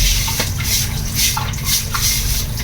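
Tap water running into a kitchen sink, a steady close splashing rush with small spattering drips, continuous and loud without speech.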